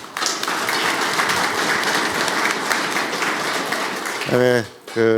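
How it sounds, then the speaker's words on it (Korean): A crowd at a political gathering claps steadily and loudly for several seconds, then a voice begins speaking over the fading applause. "박수를 부탁드립니다"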